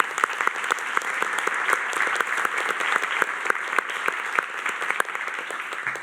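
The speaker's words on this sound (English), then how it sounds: "Maybe a quick clap." Audience applause at a panel discussion during a data launch event, steady clapping from a room of people for six seconds at even volume, with no talk over it.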